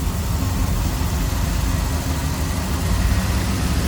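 A 1983 Chevrolet Camaro Z28 with its high-output V8 idles steadily up close, a smooth, even low rumble holding constant with no speech over it.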